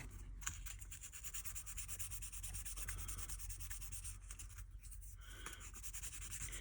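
A white metal vintage bus model kit is rubbed back with abrasive, giving a steady close scratchy rasping in repeated back-and-forth strokes against a faint low hum.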